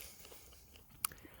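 Crispy pork crackling, cooked in a Dutch oven at an outdoor woodland camp, gives one sharp, close crunch partway through an otherwise quiet moment.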